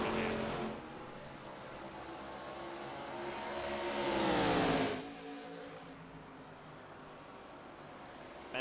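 Stock race cars lapping Rockingham Speedway in an online racing video game, a steady engine drone with one car's rising rev swelling louder and then cutting off before the field settles back to a constant hum.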